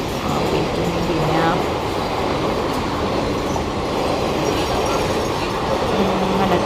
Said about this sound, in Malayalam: ട്രെയിൻ കണ്ടോ ട്രെയിൻ പോകുന്ന അറ്റ്മോസ്ഫിയർ